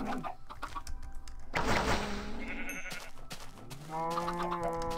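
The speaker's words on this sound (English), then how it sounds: "I'm feeding your chickens." Minecraft farm animals: blocky sheep bleat with clear harmonic calls, mixed with chicken clucks and short game sound effects, fairly close and steady, no talking.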